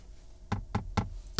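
A small hammer taps hard plastic trim low inside the door of a Skoda Enyaq, four sharp knocks in a steady rhythm, close and clear with no talking.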